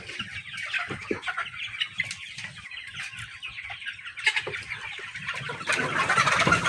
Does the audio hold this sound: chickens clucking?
yes